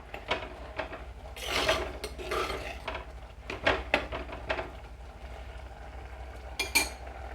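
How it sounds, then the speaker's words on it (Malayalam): Spoon scraping and clinking against a pot while cooked dal lentils are stirred for a Kerala-style parippu curry, in irregular bursts of scraping with quieter pauses between them. "ഇനി ഇതൊന്ന് ഇളക്കി കൊടുക്കാം"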